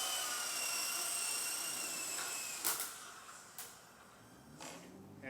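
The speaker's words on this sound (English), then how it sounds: "Alright, time to bring it in for a landing." A Blade 120 S2 RC helicopter coming in to land whines with a steady high-pitched rotor and motor drone, close and continuous, easing slightly with a few brief knocks as it settles.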